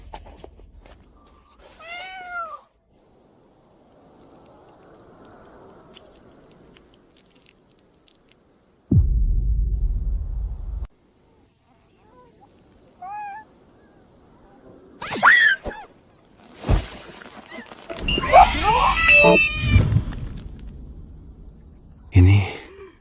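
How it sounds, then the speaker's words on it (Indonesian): Several thin, high cat meows come and go amid quiet stretches, with a few louder thumps and rustles in between. "Kayaknya aku dengar suara kucing."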